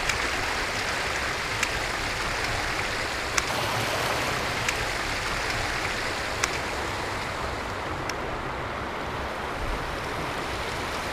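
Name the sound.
river rapids rushing while kayaking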